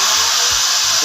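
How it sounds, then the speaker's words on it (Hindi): An electric drill runs steadily for the whole moment, a loud continuous motor whine with no one speaking, tested during work on a battery-less off-grid solar inverter. "अभी मैं ये ड्रिल चलाने लगा हूँ"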